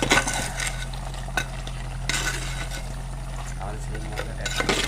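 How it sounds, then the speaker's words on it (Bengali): Potatoes are stirred into a handi chicken pot with a spoon, soft scraping and clinks over a low steady hum, while someone talks throughout. "একটু নেড়ে নেব।"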